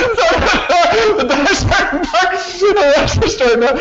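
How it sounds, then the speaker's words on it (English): A dog's yips and whimpering barks close by, overlapping with a person talking and laughing. "My dog is literally barking right now"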